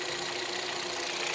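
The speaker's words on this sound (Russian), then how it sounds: "Сейчас я заведу свой мотор, чтобы можно было сравнить." Hyundai Solaris 1.6 engine idling on 5W40 oil, a steady close mechanical drone with a faint knocking texture running under it throughout, no voices.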